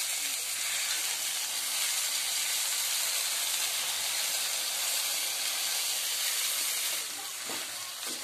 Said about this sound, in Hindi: तो हम इसको फ्राई कर लेते हैं अच्छी तरह से